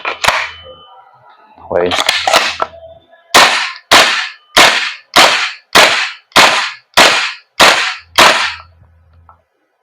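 Knights Armament SR-16 E3 MOD2 carbine airsoft gas blowback rifle firing: a few irregular shots, then a steady run of about nine sharp, loud semi-auto cracks with short echoing tails, a brief spoken word near the start.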